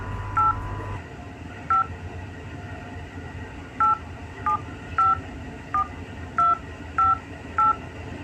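Mobile phone keypad tones in a Betawi short film: about nine short, evenly spaced beeps after a brief low hum, clear over quiet room noise with no talking.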